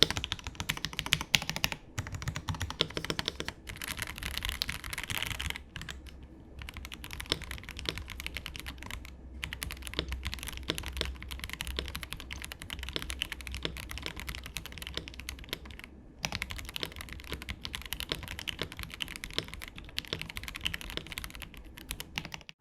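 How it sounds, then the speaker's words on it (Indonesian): Steady, fast typing on a Noir x Yunzii IF98 Pro mechanical keyboard, close and clear, a continuous clatter of key presses with brief pauses and no talk. "buat kalian penasaran sama suaranya kurang lebih seperti apa, silakan kalian dengerin sendiri"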